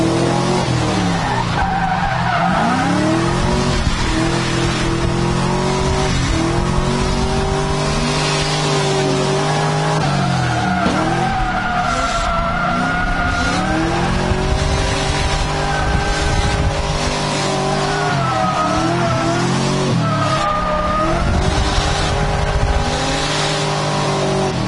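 An upgraded, once-abandoned FC race car laps a track with its engine revving steadily and tires squealing repeatedly through the corners, loud and close, with no voices.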